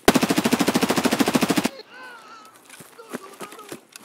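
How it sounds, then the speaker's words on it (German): Automatic rifle fire in Escape From Tarkov: a rapid, evenly spaced burst of about twenty close, loud shots emptying a magazine, then a sudden stop into quieter distant game noise, faint clicks and thuds. "diese 20 Schussmagazine sind auch schnell leer geschossen."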